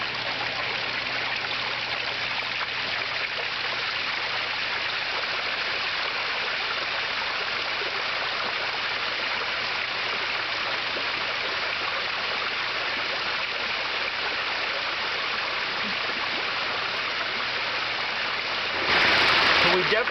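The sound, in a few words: water flowing over pond waterfall rocks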